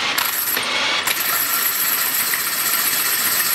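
A homemade battery-powered inertial dyno spins up with a bright mechanical whine and a brief rattling clatter near the start, then runs on at an even, fairly loud pitch.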